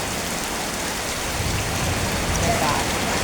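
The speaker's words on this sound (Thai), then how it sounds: "ฝนตกบักคักเลยพี่น้อง ตกตอนนี้ตกไปสองชั่วโมงกว่าแล้วพี่น้อง" Heavy rain pours steadily onto surfaces in a prolonged downpour, a dense, even hiss that swells slightly toward the end, with no voices over it.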